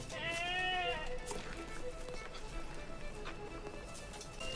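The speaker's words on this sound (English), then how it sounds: "Is the goat stuck in a fence?" A goat bleats once, loud and wavering, over rain and background noise.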